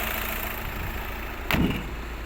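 A 2012 Volkswagen Passat 2.0 TDI diesel engine idles with a steady, even mid-range drone and no knocks, and a brief louder thump or clunk breaks in near the end.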